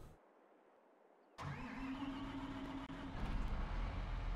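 After a moment of near silence, a tractor engine in a farming video game cranks and catches, then settles into a steady mid-pitched running rumble that grows slightly louder toward the end. No one speaks.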